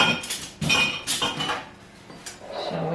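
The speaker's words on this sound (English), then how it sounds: "And put them in the canner" Glass canning jars set down into a pressure canner, giving several close clanks and clinks of glass on metal in quick succession followed by a quieter scraping shuffle.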